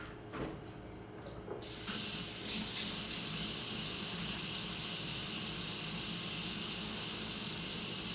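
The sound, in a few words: water running from tap while washing hands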